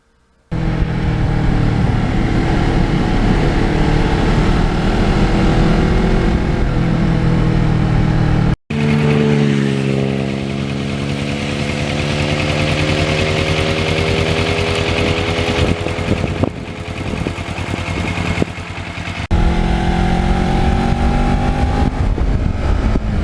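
A 2009 Kawasaki Ninja motorcycle engine drones loudly while riding, rising and falling in pitch through gear changes and shifts in throttle, with wind rushing past.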